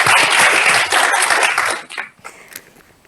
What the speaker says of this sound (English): Round of applause to TJ, please.